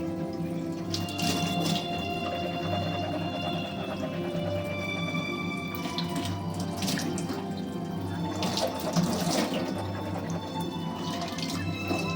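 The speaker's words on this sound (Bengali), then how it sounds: "হয়ে গেছে আমার মুখ ধোয়া।" Tap water running into a sink while someone washes their face, a steady stream with splashing and dripping that swells briefly partway through.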